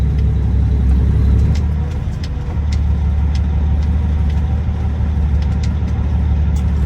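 A flatbed semi truck rumbles loudly and steadily as it pulls off a main road, its deep engine drone constant up close with a brief dip partway through and no talking.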